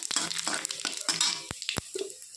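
Whole cumin and a bay leaf sizzling in hot oil with green chillies in a pan for chicken masala curry: crackling, hissing fry close by, broken by sharp clinks and scrapes of a spoon stirring against the pan.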